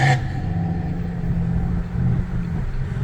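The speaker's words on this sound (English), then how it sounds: "That truck's fast." A fast truck's engine revs hard nearby, a steady loud mid-pitched roar that swells slightly toward the end, with no talking.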